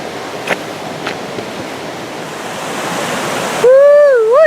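Rushing water of a waterfall beside a rough grist mill on a park hiking trail, a steady broadband roar that swells gradually, then a sudden loud warbling tone cuts in near the end.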